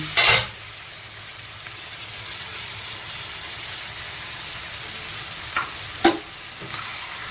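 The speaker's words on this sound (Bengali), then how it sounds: "ভালোভাবে আমি এর সাথে কষিয়ে নেব" Pointed gourd sizzles steadily in a hot pan, with a few sharp scrapes and clinks of a spoon stirring at the start and near the end.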